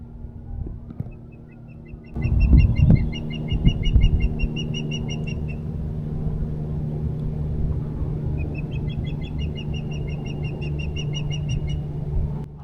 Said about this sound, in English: There's nesting, and you can hear the birds.